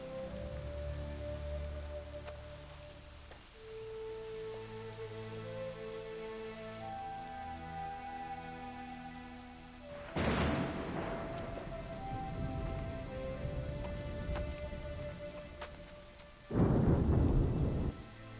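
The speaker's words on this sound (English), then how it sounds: "Obviously it's raining, it's pouring." Heavy rain pours steadily in Assassin's Creed 3 Remastered, with a background musical score beneath it and two loud cracks of thunder bursting in, one midway and one near the end.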